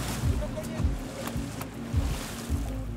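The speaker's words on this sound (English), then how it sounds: "Beating the water drives the fish away." In New Caledonia, several dull thumps and splashes of water being beaten to drive fish strike at an irregular rhythm, close by, with wind and lapping waves around a boat.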